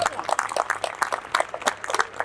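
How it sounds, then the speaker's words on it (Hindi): Audience at an all-India mushaira poetry gathering applauds a couplet with scattered, irregular claps rising and falling in short bursts, with a voice underneath. "एक बार इस शेर की तालियां बजाना।"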